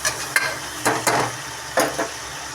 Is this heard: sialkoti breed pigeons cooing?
no